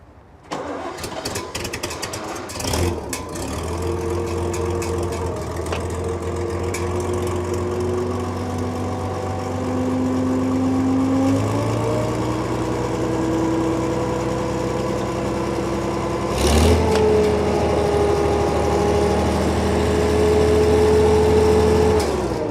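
An old tractor engine idles steadily and close, a low rhythmic chug that shifts pitch slightly midway, with a brief clatter partway through.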